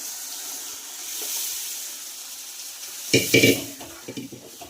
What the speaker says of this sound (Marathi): यामध्ये आपण आता डाळ घालूया मी डाळीमध्ये पाणी घालून घेतलेलं होतं ती घालणार आहोत